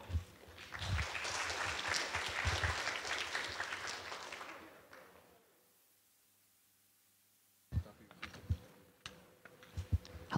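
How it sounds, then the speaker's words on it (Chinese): Audience applause for a team welcomed on stage at a hacker conference, a dense roar of clapping lasting several seconds before fading to near silence, then scattered claps and light taps returning. "让我们掌声，"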